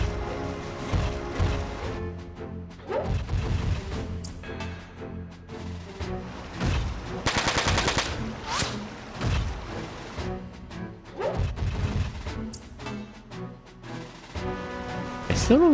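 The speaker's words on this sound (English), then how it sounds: "I can shoot missiles at them again" Missile launches and impacts from mech combat in Front Mission 4, a string of whooshing shots and booming hits spread unevenly over game music and effects, with a voice talking at points.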